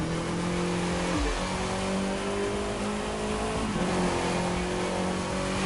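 Race car engine from The Crew 2 racing game roaring steadily with nitro boost engaged, holding a loud sustained drone with brief pitch dips around gear shifts, alone without talk.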